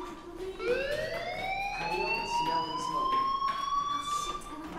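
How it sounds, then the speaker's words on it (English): A fire alarm wails in the game Life Is Strange, a rising electronic siren tone that climbs and holds steady while a person talks over it. "do you hear that fire alarm?"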